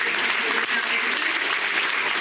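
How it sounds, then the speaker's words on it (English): An audience at a spring brunch applauds a sponsor: dense, loud, continuous clapping that fills the room evenly from start to finish. "Can we clap for Gibson Holden?"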